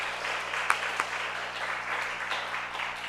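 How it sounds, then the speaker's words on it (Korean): A church congregation applauds in welcome, a steady wash of clapping at moderate level with a couple of sharper claps standing out. "우리 박수로 환영하겠습니다."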